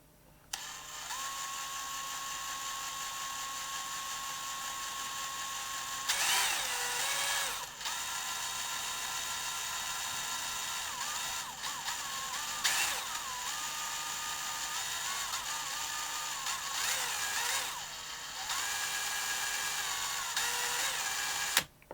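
A small power drill bores into the casing of a cheap pedal battery, its steady high whine running close and loud with several brief bursts of heavier grinding and pauses in between.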